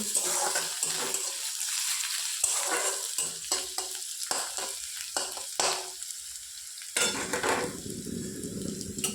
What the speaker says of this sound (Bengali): এর মধ্যে এবার রসুনটা দিয়ে দিলাম। রসুনটা একটু ভেজে নেব।